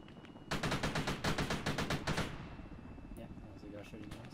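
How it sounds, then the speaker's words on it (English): Rapid bursts of gunfire in a combat video game, a dense string of loud, close shots lasting about two seconds before fading to a rumbling background, with some low talk underneath. "Yeah, that was a guy shooting at us. Tank shooting at us."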